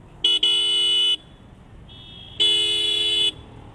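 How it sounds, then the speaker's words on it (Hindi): A car horn honks loudly and close by during an evening ride: a quick double blast, a faint short toot, then one long held honk. "मैं खड़ा हुआ हूँ और मैंने हॉर्न भी बजाया"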